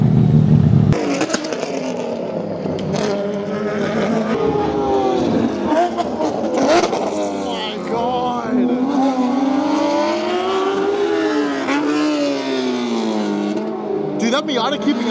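Race cars drift at Laguna Seca during GRIDLIFE 2024, loud engines revving and wailing up and down in sweeping pitch, with tire noise and cars passing near, while spectators talk and exclaim.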